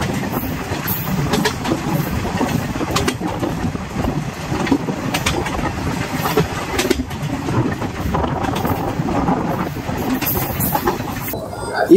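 Okha Rameswaram Express running on an old ICF rake, with a steady, loud, continuous rumble of rolling coaches and faint rhythmic clatter from the wheels throughout.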